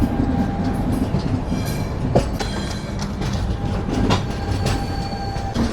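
The Prashanti Express, train 18463, rolls into Visakhapatnam Junction with a loud, steady rumble of wheels, clicking over rail joints and a few sharp metallic clanks and faint squeals.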